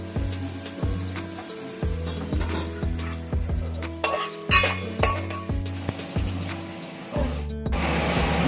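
Pots, pans and utensils clatter and clink repeatedly in a steady stirring rhythm while onions fry with a little salt in a pan, cooking for a spicy Telangana-style mutton curry, with a faint sizzle underneath.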